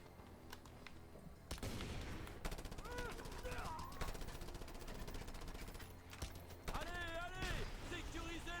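Rapid machine gun bursts crackle through a video game firefight, repeated volleys of sharp reports over a dense noisy mix, with a voice speaking over the shooting.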